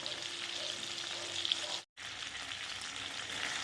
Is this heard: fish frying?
yes